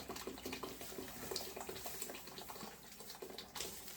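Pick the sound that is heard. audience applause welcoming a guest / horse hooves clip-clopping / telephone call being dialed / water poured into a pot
water poured into a pot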